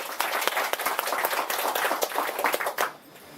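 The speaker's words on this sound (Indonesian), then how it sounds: "Kita tepuk tangan semuanya." A crowd claps steadily for about three seconds, dense and lively, then the applause quickly dies away.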